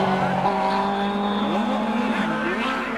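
Race cars at the 1990 SCCA National Championship roar past in a pack, several engines wailing at different pitches that rise and fall as the cars shift and pass, loud and continuous, with faint tire noise and commentary underneath.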